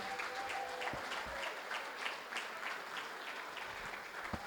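Steady, dense clapping from an audience at an awards ceremony, sustained throughout at a fairly soft, distant level.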